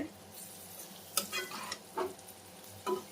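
Bitter gourd (kakarakaya) fries in a pan with a soft steady sizzle, broken by a few sharp scraping stirs. No one speaks.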